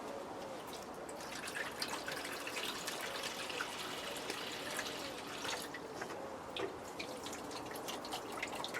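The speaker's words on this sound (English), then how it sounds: "Now these are going to get some water." Water poured gently over trays of seed potatoes on a shelf, a soft steady trickle with light dripping and splashing, quiet and close.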